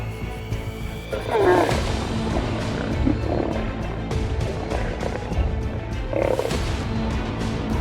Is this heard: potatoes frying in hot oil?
no